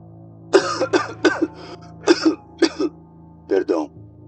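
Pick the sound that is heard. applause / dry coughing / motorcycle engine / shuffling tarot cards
dry coughing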